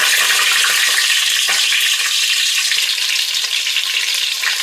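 Six eggs frying in hot oil in a pan for egg biryani, a steady loud broadband sizzle with faint crackles and an occasional clink, no voices.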